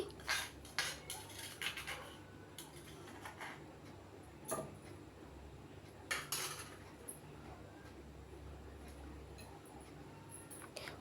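Spoon scraping and clinking against a metal pan and bowl as Andhra-style gongura chutney is transferred, with a handful of sharp taps spread over a quiet kitchen hiss.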